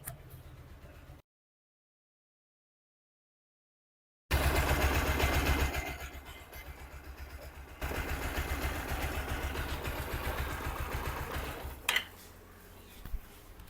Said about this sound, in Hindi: इंजन का साउंड देखिए मस्त मोला नया जैसा निकल रहा है